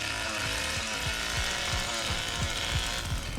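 Chainsaw from The Texas Chainsaw Massacre video game, a steady buzzing drone with rhythmic low thumps running throughout, loud and continuous with no talk.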